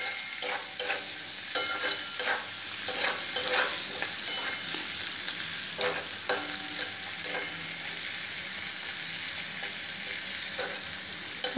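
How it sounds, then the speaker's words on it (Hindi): Green chillies with red chilli powder sizzling and frying in a pan for chilli chicken, a steady close crackle with intermittent stirring scrapes and no talking. "हरी मिर्च गोटा, सबको थोड़ा फ्राई होने तक इसको भून लूँगी।"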